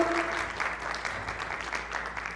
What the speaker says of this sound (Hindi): तालियां रुकनी नहीं चाहिए हमारे गेस्ट के लिए